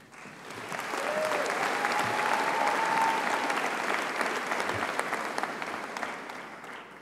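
A ceremony audience bursts into sustained applause that swells quickly, holds as a dense, even wash of clapping for several seconds, then gradually tapers off.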